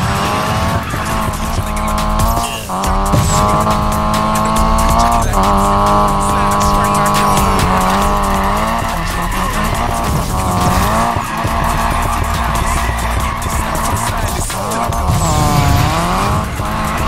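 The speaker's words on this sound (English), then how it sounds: "This is what drifting is about." A car drifts through a Need for Speed Payback race, its tires squealing almost without pause over a revving engine that rises and falls with gear shifts, loud and close throughout.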